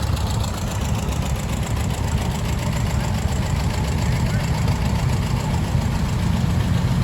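A 1957 John Deere tractor at a classic tractor show runs steadily nearby, a continuous low, rumbling engine drone with a rough, pulsing idle that holds constant from start to finish.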